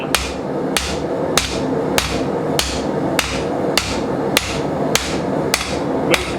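A hammer strikes a steel leaf spring on a Vevor steel anvil about ten times at an even, unhurried pace, each blow a sharp close metallic ring that decays before the next.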